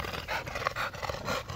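An Old English Bulldog pants close by in a quick, rough rhythm of breaths with a throaty edge.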